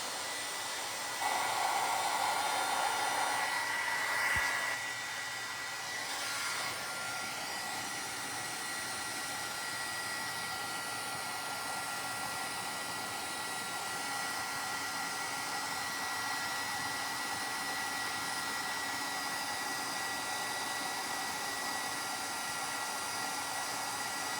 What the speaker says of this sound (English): I'm gonna just heat set this.